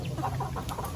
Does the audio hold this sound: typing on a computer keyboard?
no